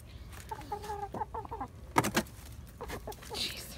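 Backyard chickens cluck and squawk close by in a coop during feeding chores, a busy run of short calls with one louder squawk in the middle, no talking.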